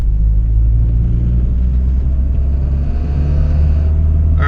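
A turbocharged Honda Civic EG hatchback with a B18C1 engine being driven, a loud, steady low rumble close inside the cabin with no talking.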